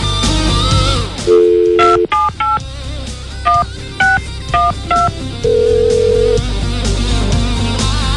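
A telephone number being keyed in on a phone, a series of distinct touch-tone beeps in an uneven rhythm, some short and quick, a couple held longer, loud and close over faint background noise.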